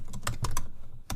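A file name is typed on a computer keyboard: several quick, close key clicks in an irregular burst, a short pause, then another keystroke.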